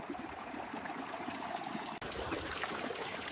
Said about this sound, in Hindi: देखो हमारा ट्यूबवेल चल रहा है